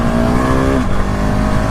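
A 2019 KTM SMC R motorcycle accelerating hard in first gear, its close, loud engine note climbing steadily before a sudden drop as the throttle eases, with no talk over it.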